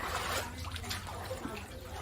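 Flood water trickling down from above inside a flooded hall, a steady close wash of splashing and dribbling with a low background hum throughout.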